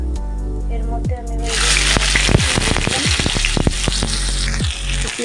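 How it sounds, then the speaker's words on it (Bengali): Chopped onion drops into hot oil tempered with whole cumin in a kadai. A loud, dense sizzle bursts in after a quiet start and keeps crackling steadily close up. "পেঁয়াজ কুচিটা একটু ভাজা ভাজা করে নেবো"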